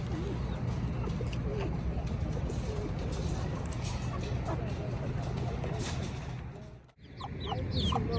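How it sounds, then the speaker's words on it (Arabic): Chickens, roosters and pigeons at a bird market in Najran, a dense mix of clucking, cooing and crowing close by, steady and busy throughout with people talking in the background. "هذا سوق الطيور في نجران."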